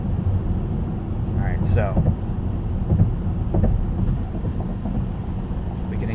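Quiet cabin of a 2022 BMW iX xDrive50 electric car driving at night: a soft, steady low road and wind hum with little else, under a man's brief spoken words.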